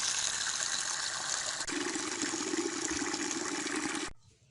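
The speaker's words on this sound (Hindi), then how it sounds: "हमने कढ़ाई जो है ना ये टूटी के नीचे रख दी है।" Tap water gushes steadily into a wok set under a village faucet for rinsing mixed lentils, the pitch of the splash shifting partway as the pan fills, then cutting off abruptly near the end.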